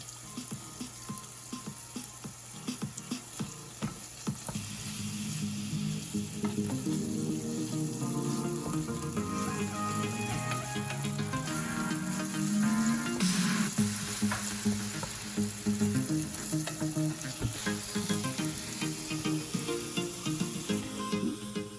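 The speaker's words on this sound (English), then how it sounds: "We just want it to be sauteed and get all that juices flowing" Duck sizzling and frying in a pan for a Caribbean-style wrap, a steady loud crackle over about twenty seconds with occasional stirring scrapes and clinks, no talking.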